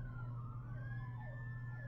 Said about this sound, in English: See, sirens going off.